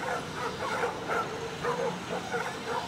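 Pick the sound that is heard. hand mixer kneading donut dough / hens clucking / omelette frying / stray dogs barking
stray dogs barking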